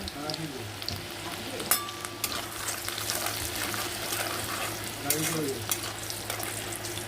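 Chopped garlic frying in oil in a pan with green chillies and salt, a continuous close sizzle with occasional spatula stirs and scrapes, bubbling steadily throughout.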